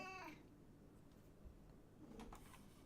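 A cat gives one short, faint meow at the very start, followed by quiet room sounds and soft shuffling.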